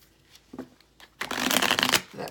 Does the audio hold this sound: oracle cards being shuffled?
yes